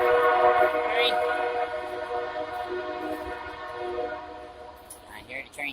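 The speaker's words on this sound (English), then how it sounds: "I hear the train, the choo-choo train" A passing train sounds a long, steady harmonic horn over a distant rumble. The horn fades, and a brief squeak comes at the end.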